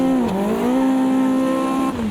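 A Caterham 620R spins out at Cadwell Park in the Automobilista 2 racing game, its engine note droning loudly and steadily with a pitch dip as the car turns, close and alone.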